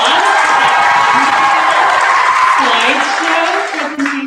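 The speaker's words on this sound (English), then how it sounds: "can we all give Campbell a round of applause?" A crowd applauds and cheers for a choir member at an awards and senior recognition evening, loud continuous clapping with voices mixed in, fading slightly near the end.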